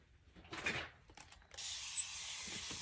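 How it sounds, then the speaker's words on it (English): A burst of broadband hissing spray lasts under a second, followed by a softer steady hiss; close and fairly quiet, with no talking. "I am going to spray it with some water"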